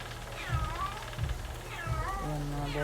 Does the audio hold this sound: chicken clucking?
no